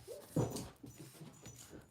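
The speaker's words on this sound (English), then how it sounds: "One dog is having dreams and the other one is panicked." Dog whimpering in its sleep while dreaming, a series of faint, soft whines and yips spread across a quiet indoor room.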